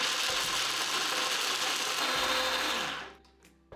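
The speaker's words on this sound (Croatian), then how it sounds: "I zato je evo ovakav blender jako dobro došao." A blender grinding almonds whirs loudly and steadily with a harsh grinding roar, then winds down and stops near the end.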